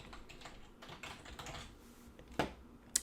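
Quiet typing on a computer keyboard while entering a file name, with a soft patter of keystrokes and a couple of sharper clicks near the end, and no talking.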